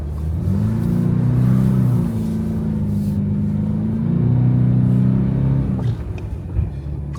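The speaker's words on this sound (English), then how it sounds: "Clutch slipped." A Toyota GR86 engine revs in snow as the clutch slips, a loud droning roar swelling and dipping in two long surges before easing off, close and alone.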